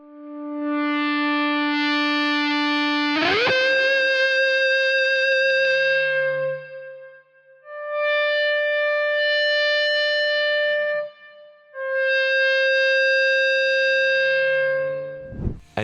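A voice-like lead guitar, heavily processed with effects, opens a song intro: long sustained wailing notes with a sliding pitch rise early on, then two further held phrases, loud and alone with echo trailing off.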